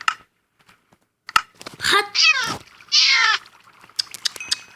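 A cat meows several times up close, the calls drawn out and insistent, with short gaps and small noises between them.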